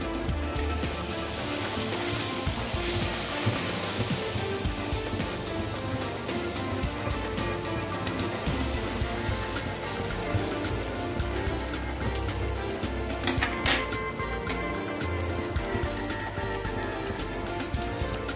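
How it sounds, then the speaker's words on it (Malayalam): Masala poori frying in hot oil, a dense, steady crackling sizzle that keeps going at an even level for the whole stretch, close up and with no voices. "എണ്ണ നന്നായി ചൂടായി, ഇനി ഓരോരോ ഭൂരിയായിട്ട് ഫ്രൈ ചെയ്തെടുക്കാം."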